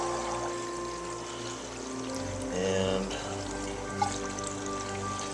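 Water pouring steadily from a hose into a barrel that is nearly full, a soft continuous splashing with a low hum in the background and a brief voice.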